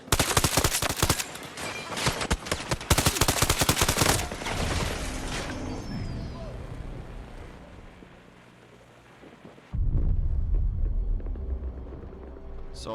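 Rapid bursts of automatic gunfire from a shooter video game, loud and dense in two volleys early on, then a quieter stretch of rumble before heavy firing resumes near the end.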